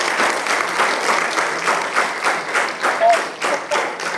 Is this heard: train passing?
no